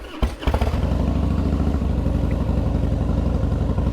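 A motorcycle engine cranks and catches, then settles into a steady, loud, throbbing idle close by.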